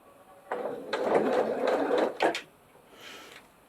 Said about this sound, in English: So start off by stitching forward a bit and then back stitching.